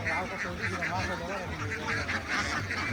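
Ducks at a duck farm, a dense flock quacking and honking continuously nearby while someone speaks over them.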